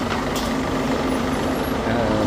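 A bus rumbles up to a stop on a street in Los Cristianos, Tenerife, its engine loud and steady with a brief hiss of brakes, while a person talks nearby.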